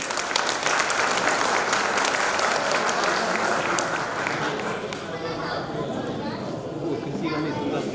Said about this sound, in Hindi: जरा तालियों की गड़गड़ाहट कम नहीं होनी चाहिए प्लीज